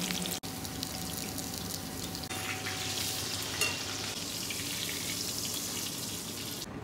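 Schnitzel meat frying in oil in a pan, a continuous close sizzle with brief crackles and a sharp pop near the start, no voices.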